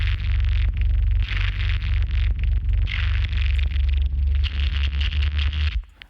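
A clean bass guitar track for a metal mix with its high end boosted, playing a steady line of heavy low notes with a bright, clicky slap on top, continuous and loud, alone until it fades at the end.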